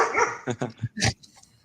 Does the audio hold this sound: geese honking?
no